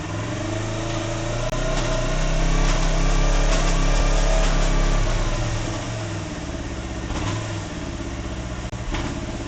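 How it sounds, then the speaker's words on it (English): A motorcycle engine with a DIY quickshifter revving up through the gears, loud and close, the pitch climbing and dropping in repeated surges with no talking. "Let me go through the gears as I rev it."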